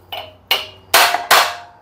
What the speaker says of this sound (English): Got me my brass hammer.